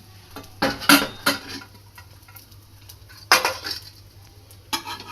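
A utensil scrapes and clinks against a pan as egg is spread and stirred, with a few sharp metallic knocks and a low hum underneath, close and fairly loud without talking.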